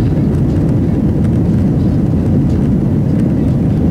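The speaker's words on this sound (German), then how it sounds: "Richtung Startbahn und mit frisch gesäubertem Flugzeug hinauf in die Luft" Steady, loud low-frequency roar of an airliner climbing after takeoff, heard from inside the cabin as a continuous drone with no breaks.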